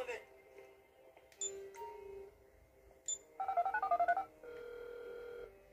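In-game mobile phone in GTA 5 gives a few short beeps, then a quick run of dialing tones and a sustained ringing tone, clear and close with faint room sound underneath.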